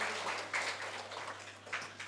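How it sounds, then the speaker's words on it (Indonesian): Applause for school children who have just sung at a Sunday Advent Mass, a soft, diffuse patter of clapping from the congregation, fairly distant and steady throughout with no voices over it. "kita beri tepuk tangan yang telah menyanyi dengan baik"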